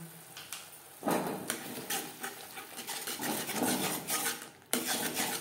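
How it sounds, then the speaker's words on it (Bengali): A utensil scrapes and clinks against a pan while spice powders are stirred in for a fish curry, giving quiet, irregular metallic scraping and knocks close by. "মশলার সাথে গুঁড়ো মশলা বেশ ভালো করে মিক্সড করে দেবো।"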